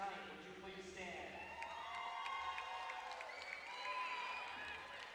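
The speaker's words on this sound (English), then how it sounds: "let's give them one more round of applause for Columbus State University International Student Athletes" Fans at a college volleyball match applaud and cheer in a gym, a faint, distant wash of clapping with whoops and shouts from the crowd mixed with overlapping voices.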